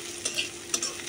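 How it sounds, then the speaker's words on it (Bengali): Potatoes frying in a pan with onion, green chilli and salt make a brief steady sizzle broken by two quick stirring scrapes, close and with no voices. "আলুটা ভালো করে ভাজে নিতেছি,"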